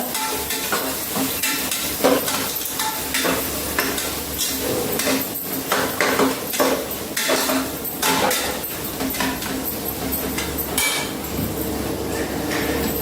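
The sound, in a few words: ginger garlic paste frying in oil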